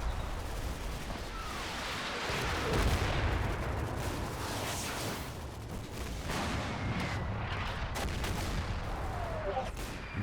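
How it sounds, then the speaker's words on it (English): Artillery barrage pounding a position in the WWII Normandy game Combat Mission: Battle for Normandy, a dense, low rumbling bombardment with scattered sharper cracks and thuds, continuous and fairly distant, mixed with faint voices. "this barrage is doing really good work in holding this position back"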